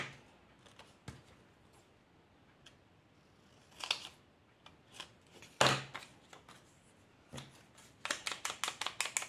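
Scissors snip through a paper game card for a scrapbooking project, a series of crisp close cuts that quicken into a fast run of snips at the end, with no talking.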